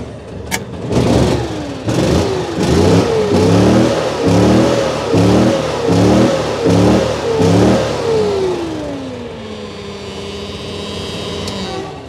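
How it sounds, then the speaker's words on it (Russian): A large 35-horsepower boat motor revs up and down repeatedly in rhythmic surges, loud and close, before settling into a steady idle. "Мощный, хороший мотор"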